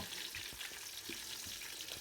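Onions fry in hot oil for a mung-dal fritter pulao, a steady close sizzle with faint stirring clinks and no talking.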